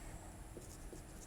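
Chalk or marker writing out a maths solution on a board scratches faintly in short strokes over steady background hiss, with no talking.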